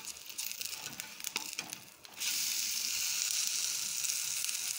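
Egg-dipped bread frying in a pan over medium heat, with a short spell of soft scraping and turning, then a steady, even sizzle that swells louder and holds without talk.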